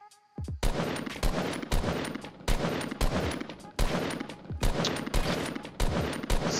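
Rapid gunfire from a Fortnite match, a dense string of loud repeated shots in bursts with brief pauses, sustained throughout.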